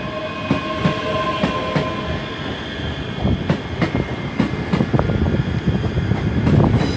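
A ScotRail Class 385 electric unit pulls out of Glasgow Queen Street station, its rumble building under rail clicks and squeals, with repeated sharp clacks of wheels over joints, loud and close throughout.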